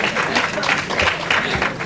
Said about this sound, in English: Sous nos applaudissements, bien sûr.